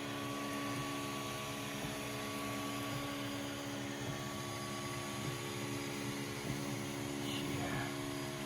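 A 3D printer heating up and printing runs with a steady whirring fan drone and faint rhythmic motor ticks, continuous and close.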